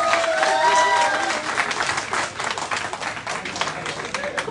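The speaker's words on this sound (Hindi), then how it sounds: "जोरदार तालियां" An audience at a state-level blood donation convention in Rajasthan claps and applauds, a dense patter of hands that gradually thins out.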